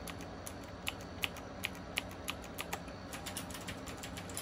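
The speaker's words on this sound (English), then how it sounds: "For comparison, ito yung clicky. I'm pressing it gently, ah." Clicky switch keys on a Logitech G913 TKL keyboard are pressed gently, giving a quiet, fairly regular series of light clicks about every third of a second over faint room noise.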